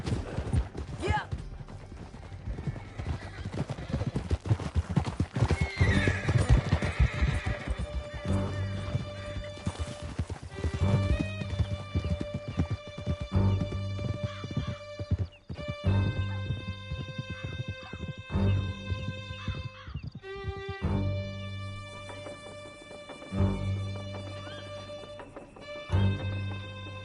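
Horses gallop hard with rapid, rhythmic hoofbeats, and there are neighs, during a canyon chase in the video game Red Dead Redemption. The galloping is loud and continuous, with music and voices over it.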